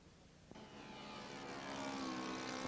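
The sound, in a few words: RC model Sopwith Tabloid floatplane, Zenoa G38 engine flying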